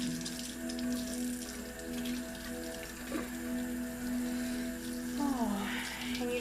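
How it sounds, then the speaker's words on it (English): Philodendron wendlandii roots are rinsed of soil in a bowl of soapy water, making soft, steady sloshing and dripping close by, with a faint underlying hum. "you just get to stare at my lovely bowl of soapy soil water while I rinse the roots from the soil"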